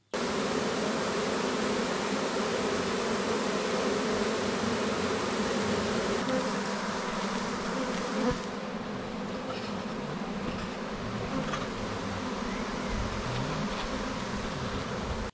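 A dense, steady buzz of many worker honeybees gathered in a bucket, loud and close, continuing without a break throughout.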